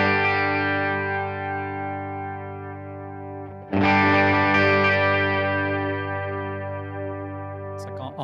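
Sustained synth notes run through a Boss RE-202 Space Echo pedal, giving a thick, chorus-like shimmer with distortion. One long held chord swells, then a fresh chord enters loudly near the midpoint and rings on, slowly fading.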